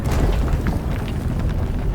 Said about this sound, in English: That was a damn big explosion, wasn't it?